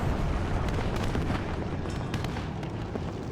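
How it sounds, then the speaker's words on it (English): A secondary explosion in the Cold War strategy game WARNO sounds as a dense, continuous rumble of booms and crackling blasts, loud and broadband, with no talking. "You have a secondary explosion right there."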